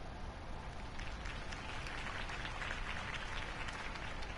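A crowd applauds after a campaign speech, a steady, fairly faint wash of many hands clapping continuously, heard at a distance with no clear voices.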